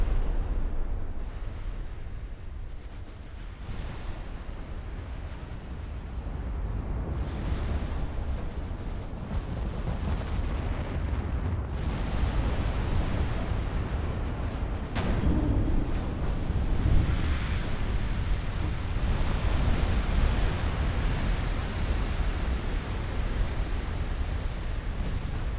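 Battleship gunfire and shell explosions in the naval warfare game Ultimate Admiral: Dreadnoughts, a continuous loud roar of heavy booms and rumbling blasts that swell and overlap for the whole stretch, no voices.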